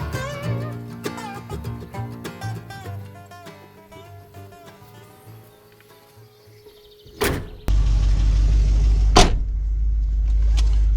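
Music plays, then a couple of heavy thunks like a car door closing, followed by a steady low engine rumble running close by from a 1977 Chevrolet Caprice under restoration, its choke still needing adjustment.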